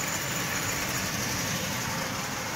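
Marx 897 toy locomotive fitted with a 6-volt DC motor runs steadily, giving a continuous close whirring, rattling drone with no pauses and no voices.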